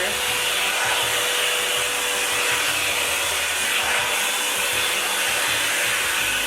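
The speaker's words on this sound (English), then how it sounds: "my first impressions as I am passing my hair through the dryer" A Revlon One Step Styler Plus hair dryer blows steadily and loudly close by, a constant whooshing roar with no pauses.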